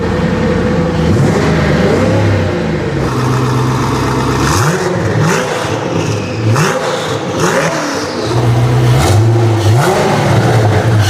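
A Koenigsegg Agera sports car engine revs repeatedly, rising and falling in pitch with a throaty roar, loud and close throughout.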